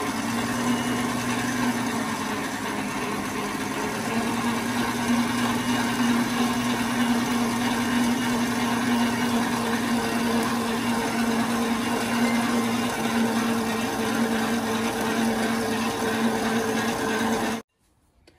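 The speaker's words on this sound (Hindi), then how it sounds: "हम मिक्स करेंगे थोड़ी तेज स्पीड पे।" Electric stand mixer churning pizza dough at a higher speed, a steady loud motor whir with a constant hum running unbroken for about seventeen seconds before cutting off.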